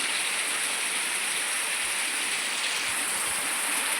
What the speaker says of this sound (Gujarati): કેટલો ફૂલ વરસાદ આવી રહ્યો છે